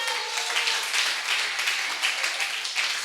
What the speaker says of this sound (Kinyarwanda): mwakomeye Imana amashyi